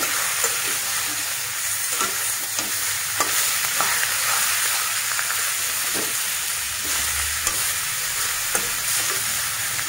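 Local chicken fries in a pan with rock salt, giving a steady, close, even sizzle with scattered small pops and crackles throughout, and no voices.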